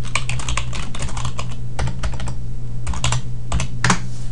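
Rapid bursts of keystrokes on a computer keyboard, typed while entering a worksheet name in Excel, with short pauses between quick clusters of key clicks and a steady low hum underneath.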